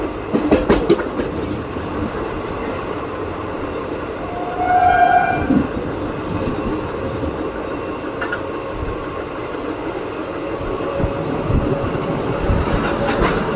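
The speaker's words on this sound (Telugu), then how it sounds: "మన ట్రైన్ వచ్చేసండి కొవ్వూరు రైల్వే స్టేషన్ అయితే స్కిప్ చేస్తుందండి" The Simhadri Express rolls loudly and steadily through Kovvur railway station without stopping, with continuous wheel rumble and clatter and a brief horn sounding midway.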